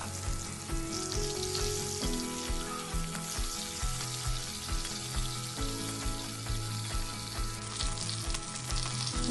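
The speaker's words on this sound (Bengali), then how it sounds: "প্রথমে আমি কই মাছগুলো ধুয়ে পরিষ্কার করে হলুদ লবণ দিয়ে তেলে ভেজে" Koi fish frying in oil with turmeric and salt: a quiet, steady sizzle with a repeating low rhythmic thump and tonal hum in the background, no speech.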